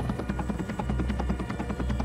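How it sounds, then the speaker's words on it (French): French Army Tigre and Caïman military helicopters taking off from a tarmac, a steady rapid rotor chop pulsing with an engine whine, moderately loud and without talk. "Sur le tarmac, le Caïman, puis le Tigre, décollent."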